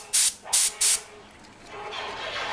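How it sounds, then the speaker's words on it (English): Radio Shack dust remover spray hisses in three sharp, loud bursts close to the microphone, followed by a softer, fading hiss, used while cleaning a vintage Technics SA-203 AM/FM stereo receiver. "good old dust remover spray, Radio Shack"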